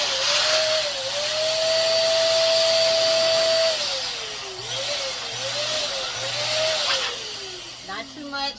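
An electric pump inflating a foil balloon gives a steady, loud mechanical whine close by. Its pitch holds level and then dips and wavers as the balloon fills, ending with a few short rustling bursts.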